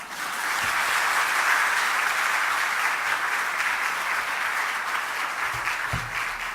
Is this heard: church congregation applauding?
yes